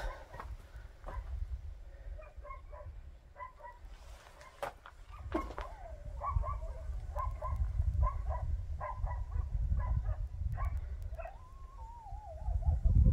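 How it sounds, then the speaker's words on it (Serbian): Dogs howl in the distance from a hilltop viewpoint near Vrmdža, Sokobanja, with repeated faint wavering cries over a low rumble of wind and background noise. "sad još psi zavijaju"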